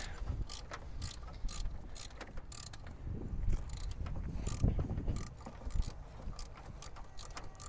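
A ratchet clicks in repeated bursts as it loosens the thermostat housing bolts on an old AMC Pacer, with close metallic ratcheting and small clanks over a low background hum.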